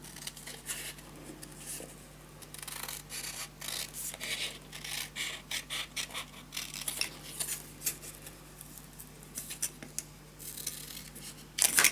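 Scissors cutting paper for a Celestial Moth scrapbook storage tower, a run of quiet, irregular snips and rubbing paper sounds close up, with no talking.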